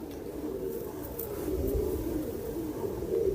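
Soft, low pigeon cooing repeats steadily and close by, over a faint background hum.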